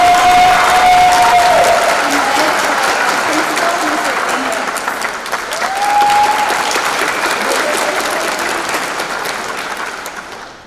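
Graduating crowd at Denver Online High School's 2017 graduation gives the faculty a long round of applause, loud and sustained hall clapping with scattered whistles and a few cheers.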